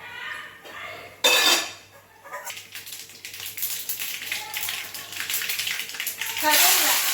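Hot oil in a kadai sizzles and crackles steadily as mustard seeds are tossed in, with a metal clank and utensil scraping nearby.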